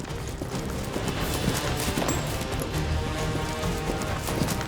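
An untrained colt lopes while turning a steer at a cowboy competition, its hooves thudding steadily on the ground amid a constant wash of outdoor noise.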